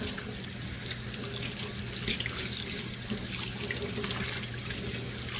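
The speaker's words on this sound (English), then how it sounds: "Rinse it out real good." Tap water runs steadily into a sink while rinsing a cast iron skillet, a constant splashing rush with no pauses.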